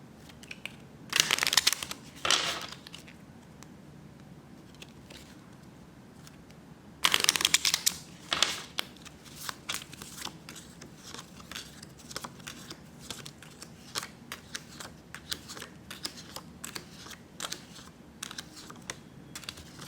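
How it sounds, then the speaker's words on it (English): Playing cards are shuffled in a quiet room for a tarot-style reading: two brisk riffle bursts, each followed by crisp card snaps, then a longer run of soft, repeated shuffling clicks. "we are going to shuffle them for the second time"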